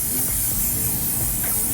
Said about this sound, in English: I'm gonna take some hairspray and spray the top